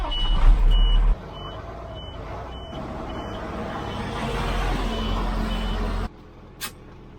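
A dump truck's reversing beeper chirps steadily about five times over a rumbling diesel engine, followed by a hiss of air brakes as the engine quiets, on a cattle farm.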